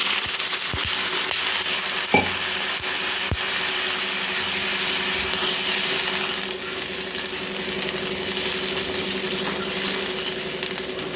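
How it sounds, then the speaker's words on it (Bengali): Potato and egg masala frying in a pan: a steady broadband sizzle fills the whole stretch, with a few sharp clicks and knocks of a utensil near the start and a constant low hum underneath. "সামান্য একটু জল দিয়ে দিচ্ছি।"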